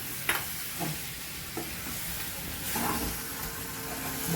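Bhaji being stirred in a pan as it cooks, a continuous sizzle and hiss with a few light spoon scrapes and knocks against the pan.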